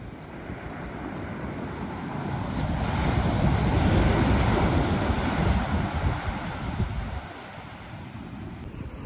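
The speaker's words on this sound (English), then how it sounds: "I can feel the spray when the water breaks. It's so powerful." Ocean waves break on a winter beach at Todos Santos, Mexico, as a steady loud roar of surf that swells in the middle and eases off, mixed with wind buffeting the microphone and no talk.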